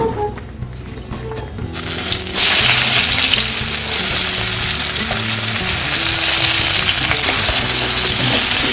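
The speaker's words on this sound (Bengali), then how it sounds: "লাল লাল করে ভেজে নিয়েছি পেঁয়াজটাকে" Sliced onions frying until reddish-brown in hot oil left from frying fish: a loud, steady crackling sizzle that swells as the onions hit the pan, with faint stirring and some low music beneath.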